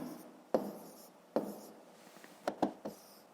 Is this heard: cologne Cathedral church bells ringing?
no